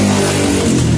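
Loud, dense street traffic noise near a home, a continuous broadband roar of passing vehicles with an engine drone, heard alone.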